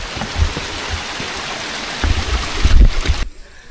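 Steady rain falls during a monsoon trek to Tandulwadi Fort near Palghar, a broad wet hiss with low thumps and gusts swelling toward the end before dropping away.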